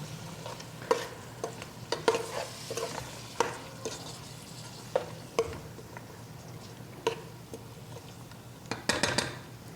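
A sea-fish head simmers in a pot with mixed spice and turmeric, with bottle gourd, as a spoon scrapes and stirs at intervals over a soft, steady sizzle, close and fairly quiet.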